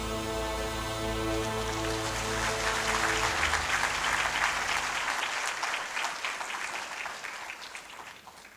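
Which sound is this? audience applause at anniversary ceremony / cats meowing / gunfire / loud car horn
audience applause at anniversary ceremony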